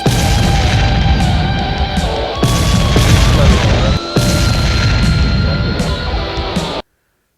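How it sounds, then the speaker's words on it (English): Loud, sustained roaring burst from firefighters pouring alcohol onto flames in an explosion test, a dense continuous blast with brief dips before cutting off abruptly near the end. "a couple of firemen pouring alcohol with flames"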